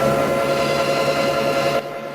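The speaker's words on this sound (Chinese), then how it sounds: "空载运转是正常的，我们现在上路试一下。" An electric tricycle wheel spins unloaded after a bearing replacement meant to cure a clicking noise, giving a steady close mechanical hum with a constant whining tone that drops noticeably quieter near the end.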